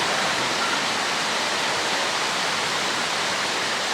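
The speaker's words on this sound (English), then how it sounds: "Oh, now it's raining." Steady rain pouring down outdoors in Malaysia, a dense even hiss with no breaks, loud and close throughout.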